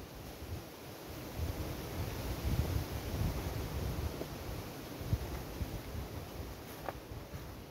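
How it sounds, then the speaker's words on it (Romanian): Wind blows steadily outdoors around beehives, a low, rough rushing that rises and falls slightly, with a faint high hiss over it. "Vântul continuă să bată."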